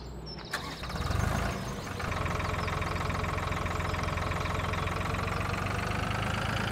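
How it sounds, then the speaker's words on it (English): A tractor in Farming Simulator 2013 hauls a trailer full of potatoes down a mountainside. Its engine catches with a brief rough surge, then settles into a steady, loud mid-pitched drone that runs unbroken to the end, with no voices. "driving a tractor with a trailer full of potatoes down the side of a mountain"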